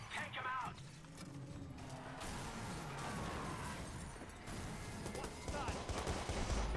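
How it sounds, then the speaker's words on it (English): Gunfire in the video game Watch Dogs, dense bursts of rapid shots and crackling fire running throughout at moderate loudness, with a voice speaking over parts of it. "Uh-oh, I'm getting shot up."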